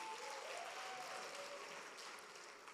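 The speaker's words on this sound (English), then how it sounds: "Can we give Coca-Cola a round of applause?" An audience applauds at a live event, a quiet, steady wash of many hands clapping that stays even and then tapers slightly at the end.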